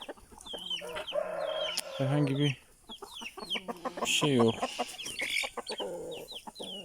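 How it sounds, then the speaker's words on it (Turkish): Hens and roosters cluck in a farmyard flock, with repeated short calls and one louder drawn-out squawk, while someone speaks over them throughout. "bütün tavuklarımız buradalar. Şeyle beraber, horozlarla beraber"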